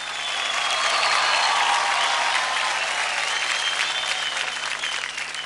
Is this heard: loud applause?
yes